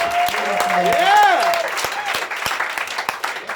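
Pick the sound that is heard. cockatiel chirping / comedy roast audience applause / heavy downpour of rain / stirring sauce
comedy roast audience applause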